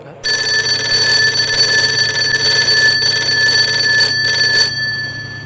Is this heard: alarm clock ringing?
yes